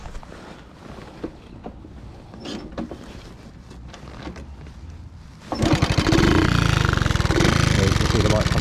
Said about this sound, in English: just about idling there, isn't it?